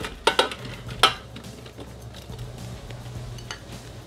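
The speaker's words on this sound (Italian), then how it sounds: "Iniziamo la ricetta mettendo all'interno del boccale i peperoncini" Hot chili peppers drop into a Thermomix jug with a few sharp clinks and clatters near the start, then quieter rustling and faint knocks over a low hum.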